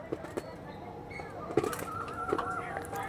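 Tournament-bred pigeons of the Arshad line, kept in a home loft and offered for sale, give soft intermittent coos with a few brief wing flaps, fairly close and fairly quiet, with no voices over them.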